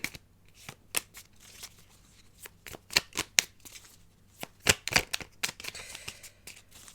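Tarot cards being shuffled by hand during a card reading, a quiet run of crisp riffling flicks and taps in uneven bursts, close and alone with no talking.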